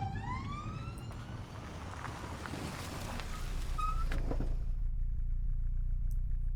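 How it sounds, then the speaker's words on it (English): A police siren wails with rising sweeps at the start, then fades out, leaving a low steady rumble; no talking. "Out of the blue, they heard a siren behind them."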